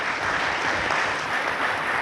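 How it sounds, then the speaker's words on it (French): Audience applause at a ceremony in Benin honouring graduates: dense, steady clapping from a crowd, fairly close and continuous for the full two seconds. "Je voudrais que vous puissiez les remercier en les applaudissant."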